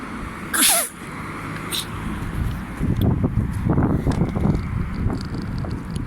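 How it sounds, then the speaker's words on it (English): One sharp, breathy sneeze bursts out close to the microphone, followed by wind buffeting and outdoor background noise. "I'm gonna have a sneeze"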